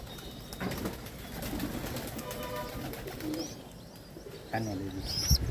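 Fancy pigeon chicks about twenty days old coo softly close by, with a few chirps and faint rustling over a quiet background, and someone speaks briefly in between.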